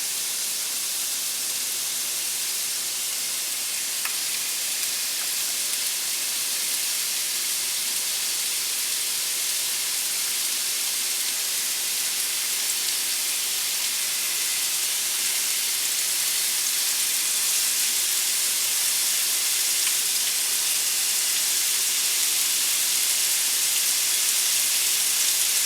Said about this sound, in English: Now we want to leave them in the pan pretty undisturbed so that they'll create a nice sear on one side.